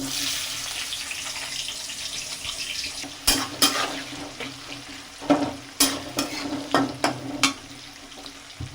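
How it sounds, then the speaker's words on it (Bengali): Onions frying in oil in a pan after potatoes for Bengali-style mutton, a steady soft sizzle broken by several sharp clattering stirs and scrapes in the second half. "ভাজা হয়ে আসার পর এই পেঁয়াজগুলো আমি ফ্রাই করে নেব।"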